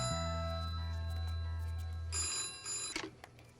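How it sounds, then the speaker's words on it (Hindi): A telephone rings indoors with a steady tonal ring and low hum, then a brighter burst of ringing before it stops abruptly. "वो फोन बज रहा है"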